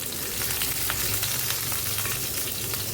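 Bay leaf, whole cumin and a cracked cardamom pod sizzle in hot oil, a dense, steady frying hiss that holds at an even loudness throughout with no talking.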